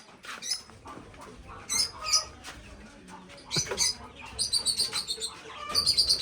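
Kept ringneck parrots chirp and tweet in quick bursts of short, high calls, some repeated in rapid series, fairly close, with faint rustling between the calls.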